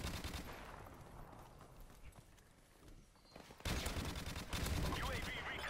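Rapid automatic gunfire from a favored weapon in a first-person shooter video game, with a dense mid-level burst that drops away briefly before loud, sustained firing resumes near the end.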